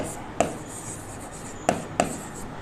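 Marker or chalk writing on a board during an economics lesson, three short distinct scratching strokes against a quiet room.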